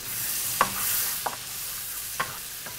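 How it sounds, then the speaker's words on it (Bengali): Onion paste fries in butter with a soft, continuous hiss, broken by a few sharp spatula scrapes and stirs, close and moderately loud. "পেঁয়াজ বাটাটা দিয়ে দিচ্ছি।"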